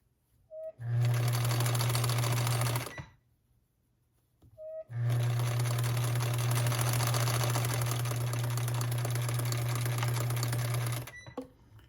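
Close by, a sewing machine stitches a fabric headband bow in two runs, a short two-second burst, a pause, then a longer six-second stretch of steady whirring stitching.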